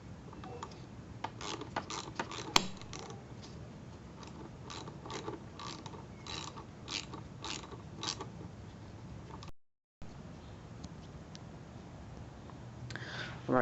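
Screws being backed out of a BMW E36 seat produce repeated close creaks and ratcheting clicks in uneven bursts, followed by a brief gap and faint mechanical handling noise.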